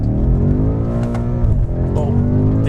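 BMW M5 F90 with a 4.4-liter twin-turbo V8 and all-wheel drive launching hard from a standstill, a loud, steady engine roar climbing in pitch, with a brief dip near a gear change.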